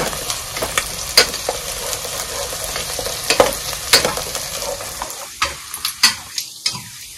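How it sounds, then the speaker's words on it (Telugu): Onions and green chillies fry in a pan with a steady sizzle, broken by repeated sharp scrapes and taps of a spoon stirring them, loud and close with no talking. "సో ఆనియన్స్ అయితే బాగా ఫ్రై అయినాయి."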